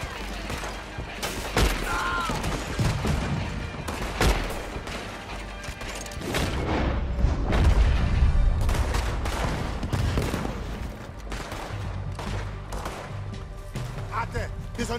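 Bursts of gunfire in Red Dead Redemption 2 crackle and pop repeatedly amid booms and mechanical noise, loud and busy, with voices talking over the action.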